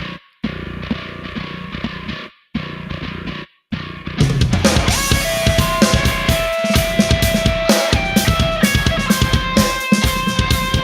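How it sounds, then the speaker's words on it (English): A heavy, distorted bass line grinds in repeated pulses, first in short gapped phrases, then in a continuous thick, buzzing groove with a backing track. "This is with the distortion."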